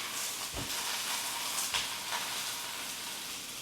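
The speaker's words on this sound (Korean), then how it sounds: "야채는 전체적으로 센 불로 구워주시는 게 수분도 빠르게 날아가고 흐물거리지 않게 식감을 살릴 수 있어서 좋아요." Paprika and other vegetables grill in a pan over high heat, giving a steady, even sizzle and hiss close by with a few soft stirring bumps, and no talking.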